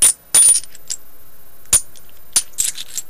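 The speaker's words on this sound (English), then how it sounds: "these are the Ellusionist coins. So a little bit of a duller sound." Ellusionist zinc coins dropped onto a surface, giving a series of duller metallic clinks and small bounces, close up and alone without talk.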